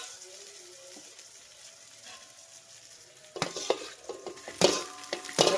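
Tomatoes sautéing in a pan, a soft steady sizzle that grows louder and crackly when stirred, with scraping and clinking of a spoon against the pan near the end.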